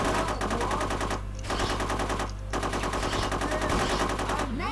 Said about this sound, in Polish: i laserami strzela